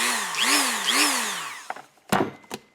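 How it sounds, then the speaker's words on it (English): A Dremel rotary tool whines at high speed while cutting out a stripped Phillips screw from a case, its pitch rising and falling over two passes before it spins down, followed by a few sharp clicks and knocks. "Thankfully, good old Dremel here."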